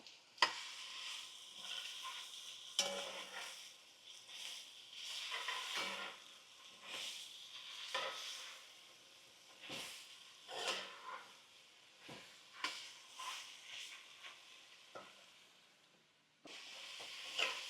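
Meats frying in a pan for crawfish boil pasta give off a steady sizzle, broken up by repeated scraping stirs and occasional clinks of utensil against pan, close and fairly quiet.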